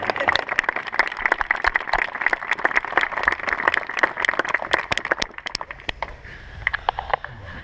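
A wedding crowd gives a round of applause, dense patter of many hands clapping steadily for several seconds before thinning out into a few scattered claps near the end.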